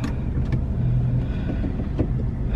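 A truck moving through nearby traffic produces a steady low engine drone with a few brief knocks and clicks, heard from inside a vehicle without talk.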